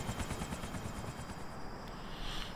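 A steady, rapid thudding of helicopter rotor blades with a continuous engine whine as a helicopter lands in GTA IV, close and fairly loud, no voices.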